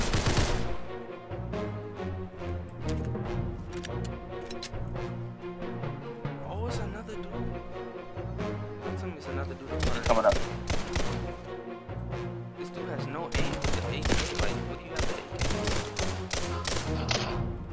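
AK rifle gunfire in a video game, sounding as rapid, dense bursts of shots that run on and off throughout, with players talking over the firing.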